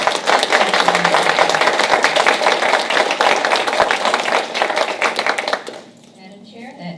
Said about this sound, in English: Let's give these awesome leaders a round of applause.